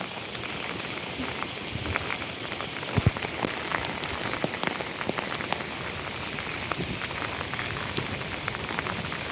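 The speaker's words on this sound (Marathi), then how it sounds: "अगदी मुसळधार पाऊस जसा पडतो तसाच पाऊस हा आत्ता कंटिन्यू चालू आहे" Heavy monsoon rain at Koyna pours steadily, a dense continuous hiss of drops drumming on surfaces, with a few louder splashes standing out.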